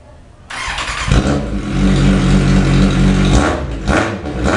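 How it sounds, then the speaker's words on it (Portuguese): A Kawasaki Z750 motorcycle fires up and holds a loud, rough, close idle, then swells into a brief rev before settling, with no talking over it. "eu quero ligar a moto"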